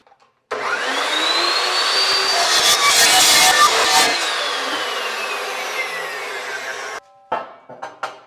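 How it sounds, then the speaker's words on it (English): An Evolution cold cut saw cuts through metal in one continuous loud whining pass lasting about six seconds, the pitch shifting as the blade bites in, followed by brief clanks once it stops. "just use the Evolution cold cut saw and cut off right on the end of these"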